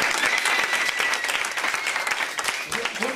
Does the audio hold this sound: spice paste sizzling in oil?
no